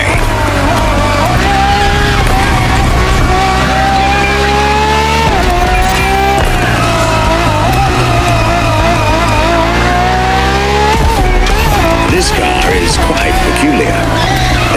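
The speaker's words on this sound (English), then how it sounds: "for this second lap, you'll be driving the FXX K" A Ferrari FXX K supercar, a lab-enhanced LaFerrari, racing in The Crew Motorfest: a loud high-revving engine climbs and drops through gear shifts with tire squeal, constant and close, while a voice talks over it.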